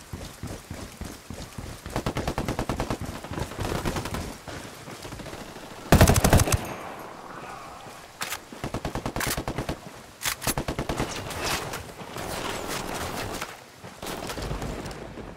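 Rapid bursts of automatic gunfire in the tactical shooter Ghost Recon Wildlands, loud rattling volleys repeating with brief pauses and one sharp heavy blast, with faint bird calls in between.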